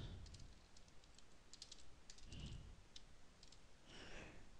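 Quiet bursts of typing on a computer keyboard, quick clusters of key clicks separated by short pauses, close but faint over a soft background hiss, no speech.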